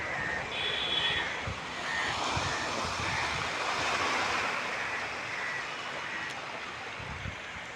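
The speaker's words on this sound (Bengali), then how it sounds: "এই ঢেউটা আসতেছে ধাপাস ধাপাস মারবে।" A steady, roaring wash of surf fills the scene, waves breaking continuously nearby with no clear pauses between them.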